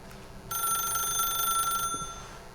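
A telephone rings in the video game The Stanley Parable: one sustained, bright electronic ring bursts in clearly, holds for over a second, then cuts off, leaving quiet room tone.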